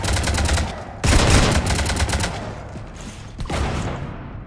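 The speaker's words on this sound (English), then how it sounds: "You want to stop shooting up my ship?" Rapid automatic gunfire from the video game Mass Effect 3 during combat on the Citadel, sustained bursts of rattling shots with brief pauses between volleys, loud and close.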